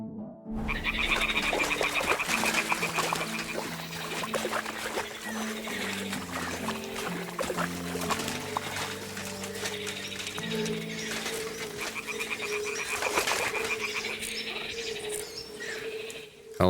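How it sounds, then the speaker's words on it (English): Toads croak steadily at the edge of Zhelejov Inn in Kingdom Come: Deliverance II, a dense chorus around a fallen nest that runs for the whole stretch over soft tonal music. "I found a fallen nest surrounded by the sound of toads croaking"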